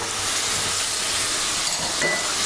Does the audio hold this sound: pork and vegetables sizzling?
yes